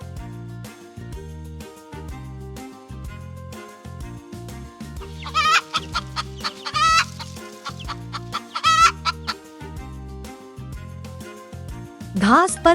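Chickens on grass clucking in several short bursts over a cheerful children's tune about farm animals, ending with a louder cackle.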